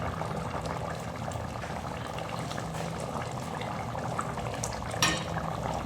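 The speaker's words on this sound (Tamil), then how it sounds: "பாருங்கள், நல்லா கொதிக்குது." Potato and mutton gravy bubbling and boiling in a pot, a steady close simmer with small pops and a brief louder splash near the end.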